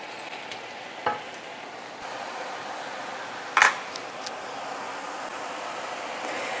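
Spinach filling cooks in a pan with a steady, soft sizzle throughout, broken by a couple of brief utensil clicks against the pan; no one speaks.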